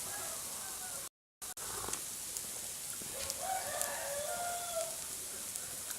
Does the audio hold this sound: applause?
no